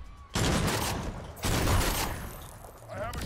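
Sustained bursts of automatic gunfire from the Agents of Mayhem video game rattle loudly in two long volleys, separated by a brief gap.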